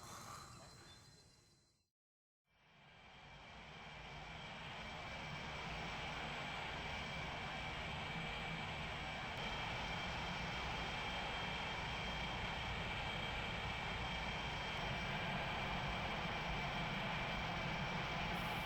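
A MiG-21 jet engine in the Strike Fighters flight sim, set at Kep Air Base in North Vietnam, spools up after a brief silence into a steady, loud roar with a high whine that holds throughout.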